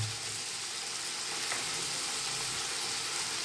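Ginger and garlic paste sizzles steadily in a hot pan of oil while a cauliflower dish is cooked, a soft continuous frying hiss with no talk.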